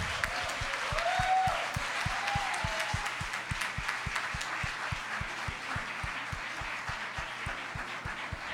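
Hand clapping from a church congregation, a steady rush of claps over a regular low thumping beat, with faint voices early on, holding at moderate loudness throughout.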